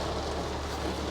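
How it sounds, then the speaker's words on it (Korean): Heavy rain pours steadily outside a BMW X6 M50d during a test drive, a dense, continuous hiss that fills the whole moment with no voices. "이 빗소리 때문에."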